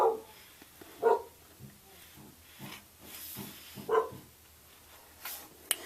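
Dogs bark in scattered, separate bursts at moderate distance, several sharp barks spaced irregularly over a quiet background.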